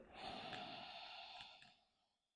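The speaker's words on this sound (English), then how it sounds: "Inhale." A single long, breathy inhale drawn in steadily through the nose, close and soft, easing off into quiet at the end of a guided breathing exercise.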